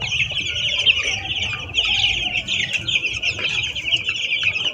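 A flock of about a hundred poultry chickens clucks continuously at close range, a busy overlapping chorus of hens with occasional wing flaps and no talk.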